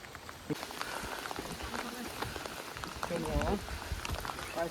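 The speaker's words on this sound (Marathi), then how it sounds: "आता पाऊस आलाय" Steady rain patters all around in a constant hiss in the Sahyadri hills near Vasota, with a person's voice speaking faintly beneath it.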